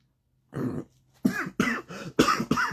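A brief throat-clearing followed by a string of four or five rapid, forceful coughs, close and fairly loud.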